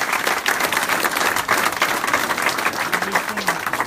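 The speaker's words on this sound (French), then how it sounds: "je pense que vous pouvez l'applaudir parce que" Handball crowd at a VHF versus Lyon match applauding steadily, a dense, loud wash of clapping that fills the arena with no pause.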